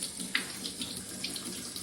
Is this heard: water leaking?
yes